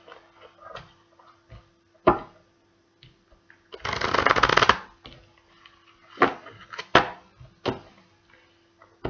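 Tarot cards being shuffled in a single close, dense burst of riffling lasting about a second, set among scattered soft taps and handling sounds of the deck, with no talking.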